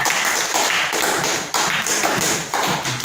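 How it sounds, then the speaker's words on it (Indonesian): A classroom of students clap their hands together in a sustained, dense burst of applause, fairly loud and steady for a few seconds with no voices. "Nah, tepuk tangan dulu, ya."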